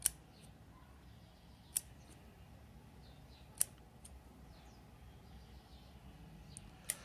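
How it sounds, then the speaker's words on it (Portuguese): Scissors snip leaves from a young Portulacaria bonsai, giving a few sharp, isolated cuts spaced a couple of seconds apart over a quiet, faint background. "As folhinhas que eu estou cortando aqui,"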